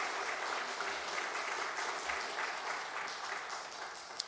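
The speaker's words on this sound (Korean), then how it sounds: "하나님께 영광 박수 올려드리겠습니다" Steady applause fills a church during a Sunday worship service, a dense, even wash of many hands clapping throughout without letting up.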